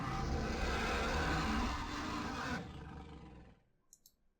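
A beast in the Kaidan Restaurant horror game for the Nintendo DS gives a loud, rough, lion-like roar. The roar sustains for about two and a half seconds, then fades, and a few faint clicks follow.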